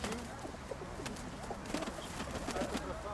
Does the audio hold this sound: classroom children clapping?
no